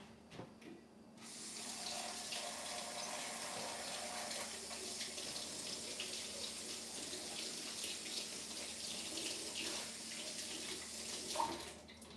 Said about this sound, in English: let me just go and rinse my hands one more time